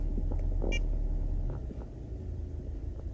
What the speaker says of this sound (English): if you listen, you can see the engine idle's gone up